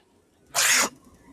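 A character in Alan Wake Remastered lets out a single short, sharp sneeze, loud and close, with near silence before and after.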